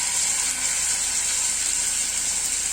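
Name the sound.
chicken pieces sizzling in hot pan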